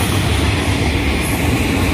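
A Union Pacific manifest freight train passes close at a railroad crossing on Tangerine Road, a loud, continuous roar of rolling wheels and rumbling cars filling the whole span.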